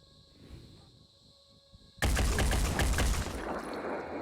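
In the tactics video game Phoenix Point, a sudden loud explosion bursts in after a quiet stretch, a dense crackling blast with rattling debris that stays loud to the end.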